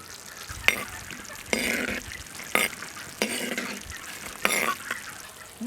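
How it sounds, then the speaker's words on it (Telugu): Peanuts frying in hot oil for a festive tamarind-rice tempering, a soft steady sizzle broken by five louder bursts of stirring and scraping, close and without speech. "నూనె అయితే కాగింది, ఇందుట్లో పల్లీలు కాడ వేసుకుంటున్నాను."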